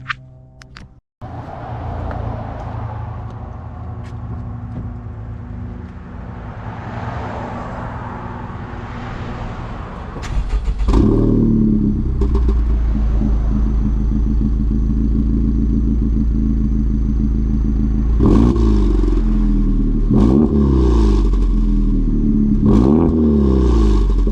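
A custom-tuned 2019 Honda Civic Type R turbocharged four-cylinder, about 419 hp, under a steady low engine drone; it cranks and starts near ten seconds, then idles loudly and gets several sharp revs in the second half.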